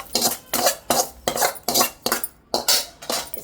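Garlic cloves tumbling into a metal pan while curry leaf powder is being made, giving about eight rhythmic clattering scrapes of metal on metal, fairly close, without talk.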